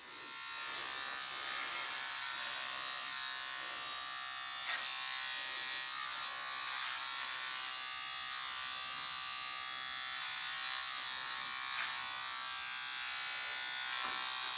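A steady high-pitched electric buzz of a Microtouch Titanium Trim hair trimmer runs continuously, close and even, with slight changes as it moves through hair.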